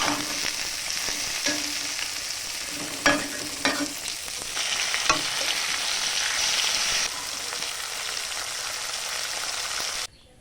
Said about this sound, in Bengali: বেগুনগুলোকে আমি ভেজে নেব